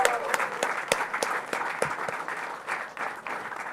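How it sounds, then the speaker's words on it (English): Audience applause at a chess world championship event, a crowd clapping with distinct sharp individual claps over a steady patter, moderately loud and fairly close, continuing evenly throughout. "So big round of applause for Group E4."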